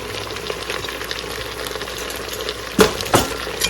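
Salt, turmeric and red chili being stirred into food frying in a pan, a steady hot sizzle with two sharp scraping clatters of the spoon near the end.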